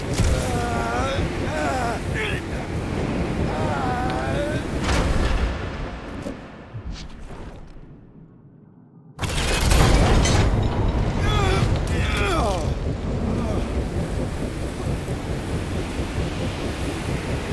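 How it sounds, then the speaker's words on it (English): Strong wind gusts in the Guardians of the Galaxy video game roar as a loud, dense broadband rush, dropping away briefly before surging back, with characters' voices speaking over the storm. "Your feeble body cannot overpower such tremendous gusts!"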